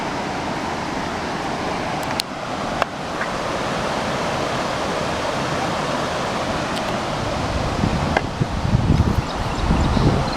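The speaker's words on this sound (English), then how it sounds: "we're on top of the waterfall that we saw earlier" Steady broadband rush of a waterfall seen from above on a hiking trail, mixed with wind, continuous and fairly loud throughout, with a few brief knocks and some closer rumbling bursts near the end; no talking.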